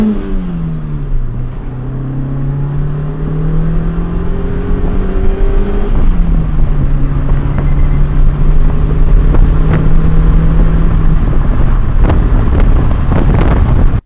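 A light 1991 Honda Civic Si hatchback drives along with steady engine drone and gear-change pitch shifts, wrapped in loud continuous wind noise from start to finish.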